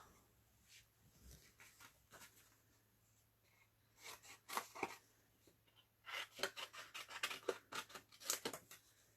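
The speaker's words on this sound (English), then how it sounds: "Grab the scissors." Scissors snipping through paper scrap during stamping and papercrafting, a series of quick close crisp cuts that grow denser and louder toward the end, with light rustling between them.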